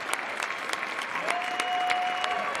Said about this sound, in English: Let's give the Cougars one more round of applause, ladies and gentlemen